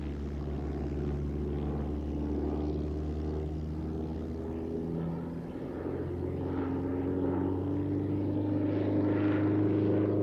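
A propeller aircraft engine droning steadily in flight, a low continuous hum with a gently shifting pitch, loud and even throughout with no speech.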